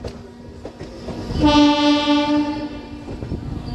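A MEMU train near Gudur junction sounds a loud, sustained horn for about a second over the steady rumble of rolling rail cars, with no voices.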